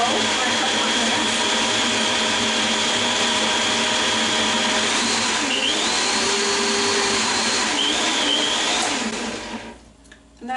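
A blender grinds a smoothie with a loud, continuous whirring roar that holds steady for about ten seconds, its pitch shifting slightly as the load changes, then cuts off abruptly.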